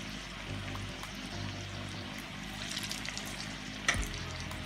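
Cabbage and carrot pakoda batter fries in hot oil with a steady, low sizzle and bubbling, broken near the end by a brief clatter.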